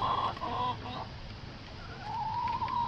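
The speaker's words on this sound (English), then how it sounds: "Those are the younger chickens" Young chickens cluck and call softly nearby, a few short bursts of clucking over a quiet background.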